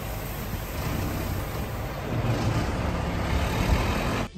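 A truck loaded with oats on a slippery surface rumbles steadily as its engine strains, swelling louder midway through a close, continuous drone with no voices.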